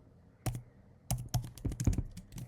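Keys on a computer keyboard are tapped in short uneven clusters, one isolated press followed by a quick run of crisp clicks, close and clear in a quiet room.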